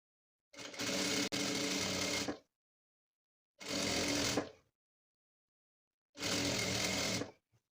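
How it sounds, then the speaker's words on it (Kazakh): A sewing machine stitches stretch velour in three separate bursts of steady, rapid mechanical whirring, each lasting one to two seconds. Clear silence falls between the bursts, and the machine sits close and is heard alone. "Екі шетінде осылай тігіп аламыз."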